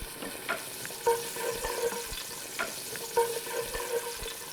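Garlic fries in oil in a pot, a steady close sizzle with periodic stirring scrapes and soft clinks of a utensil against the pan, no talking.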